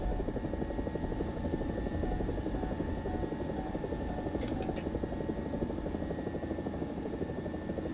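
A Chinese attack helicopter in War Thunder makes a steady, loud rotor and engine drone that holds unbroken throughout, with a few faint high clicks partway through.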